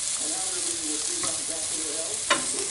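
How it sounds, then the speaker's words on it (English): Peppers and onions frying in a home kitchen pan make a steady, moderate sizzle, with a few soft stirring scrapes and one sharper clink near the end. "She's cooking the peppers and onions."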